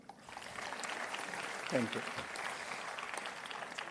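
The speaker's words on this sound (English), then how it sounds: "Now you can clap." Audience at a Bachelor of Engineering graduation ceremony clapping: a moderate, even wash of applause filling the room for a few seconds, with a brief spoken thanks over it.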